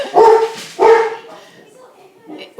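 A dog barks twice loudly and close by, two sharp harmonic barks, followed by fainter grumbling whimpers.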